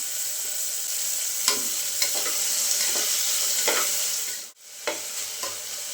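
Onions frying in hot oil for jeera rice, a loud, steady sizzle punctuated by repeated spatula scrapes and taps, with a brief pause of near silence partway through.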